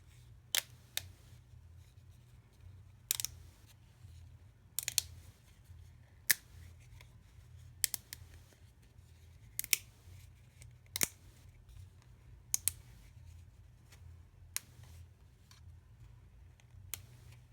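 Thick embossing layers on glass crack in a scattered series of tiny, sharp ticks and snaps, faint and close, over a low steady hum, with no talk.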